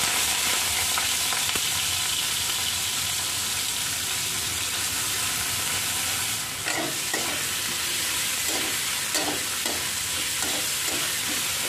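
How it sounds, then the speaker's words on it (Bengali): Onion frying in mustard oil gives a loud, steady, close sizzle that runs unbroken throughout, with a few light stirring taps near the end. "পেঁয়াজটাকে ভালো করে ভেজে নেব।"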